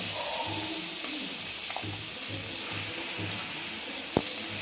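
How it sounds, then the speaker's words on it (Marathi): Five or six green chillies fry in a pan of oil, giving a steady, close sizzling hiss broken by a few small pops and clicks. "ते पण छान फ्राय करून घ्यायचे."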